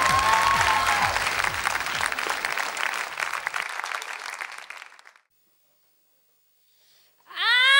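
Audience applause at a singing gala for Hay Superstar, a dense, loud clapping crowd that fades out around five seconds, followed by silence before a singer's voice enters at the end.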